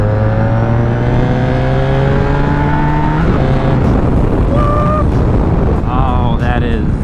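Honda VFR1200 V4 sport-touring motorcycle of about 170 hp, pinned in third gear from 4,500 rpm: a loud, close engine note climbs steadily for a few seconds, then shifts into a rougher roar with rising whine over wind noise.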